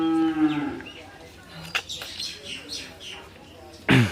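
A dairy cow moos close by in one long, loud low call at the start, followed by scattered bird chirps and brief farmyard noises, with another loud sound at the very end.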